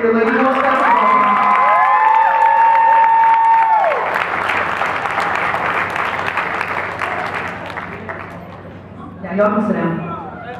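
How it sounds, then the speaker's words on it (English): A crowd applauds a girls basketball team at a team banquet, loud sustained clapping with cheers and whoops that fade out, while a voice speaks over the start and again near the end. "And one more round of applause for your Lady Girls Basketball team."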